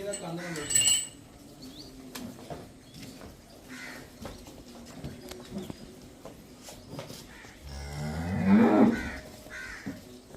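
Cows and buffaloes on a farm moo, with one long, loud, close low call near the end after fainter calls and farmyard noise, while a crow caws in the background.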